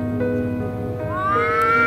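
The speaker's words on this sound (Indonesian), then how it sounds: "saya mendengar ada suara kucing yang sedang berkelahi" A black-and-white cat and a white cat fight outdoors, with a drawn-out, rising yowl that climbs in pitch over steady background hum, close and fairly loud.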